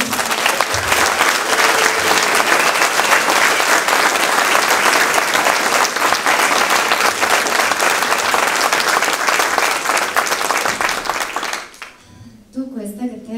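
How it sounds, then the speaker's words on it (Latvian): Loud, sustained audience applause fills a folk dance group's 35th anniversary concert hall, steady dense clapping for about twelve seconds before dropping off abruptly, with a voice beginning to speak at the end. "Aplausi viņiem!"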